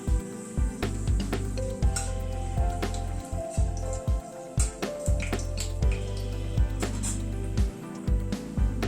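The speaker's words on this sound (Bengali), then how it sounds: "গ্যাসের ফ্লেমটাকে একদম কম করে ফোড়নটাকে আগে ক্র্যাক করিয়ে নিই" Fenugreek and whole spices crackle in hot oil over a low gas flame, giving a steady close sizzle broken by frequent sharp pops and spits for the whole stretch, with no talking.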